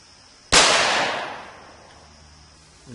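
A single sharp 9mm handgun shot fired at a soft steel plate cracks loudly close by, then a long reverberant tail fades over about a second, with a faint thump near the end.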